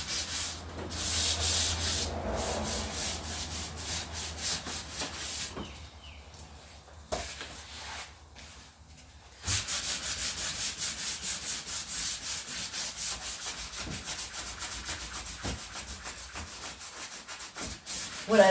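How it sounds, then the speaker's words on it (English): Wood is sanded by hand with flexible sanding pads, a steady scratchy rubbing in long continuous strokes, close up, with a brief quieter pause midway before the rubbing resumes. "What I like about these sanding pads is they allow you to be more flexible than sandpaper."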